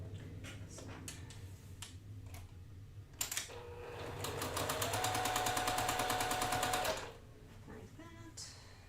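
A sewing machine stitches quilt block seams, starting with a few isolated clicks, then running fast and even for several seconds before stopping, close and moderately loud.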